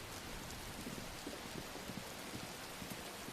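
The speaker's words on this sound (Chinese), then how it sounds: "就下这么大雨" Heavy rain falls at night in a residential housing block, a constant, fairly faint wash of noise with scattered louder drops and no voices.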